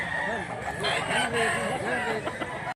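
A Gilmore Hatch gamefowl bullstag crows nearby in a short, loud, drawn-out call, with other farm-bird sounds and people talking around it.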